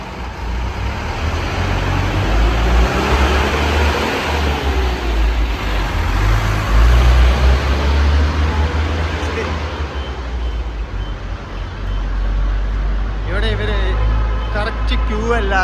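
Vehicles pass slowly on the Jammu–Srinagar road, blocked on one side by a landslide, with low engine rumble and steady road noise close by and a person talking throughout.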